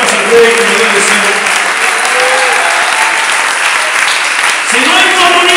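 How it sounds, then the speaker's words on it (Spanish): Church congregation clapping in praise for the King during a Spanish-language sermon on the Holy Spirit, a loud, steady, dense wash of applause sustained throughout with crowd murmur underneath. "Dele esas palmas al Rey"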